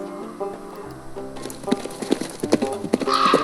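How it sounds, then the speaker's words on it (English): Hooves of an Arabian horse clip-clop in an uneven rhythm, growing busier toward the end, mixed with a tonal musical backdrop and a possible soft whinny. "The fawn Bornu, known as the Arabian horse, is a native of Africa and raised in great numbers"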